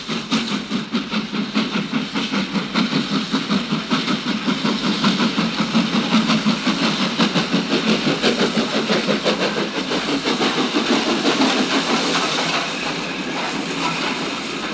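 A steam locomotive chuffs steadily away at close range, its rapid rhythmic puffs layered over a continuous mechanical rumble and hiss, with no voices heard.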